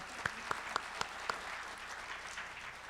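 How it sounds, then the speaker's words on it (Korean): A seated audience at a January 2020 breakfast lecture gives thank-you applause for Professor Lee Jeong-dong, faint and distant, with a few sharp claps standing out. "다시 한번 이정동 교수님께 감사의 박수 부탁드리겠습니다."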